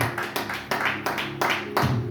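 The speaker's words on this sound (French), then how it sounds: "On acclame très fort la parole de Dieu" A church congregation applauds at a Sunday service led by Bishop Nehemie Kabeya, with steady, dense clapping in rhythmic waves that swell every half second or so.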